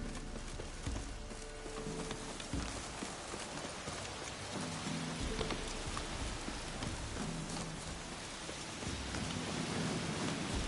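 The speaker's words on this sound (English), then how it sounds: "Looks like rain." Steady rain in The Witcher 3 video game hisses and patters continuously, with a soft low rumble underneath and no voices.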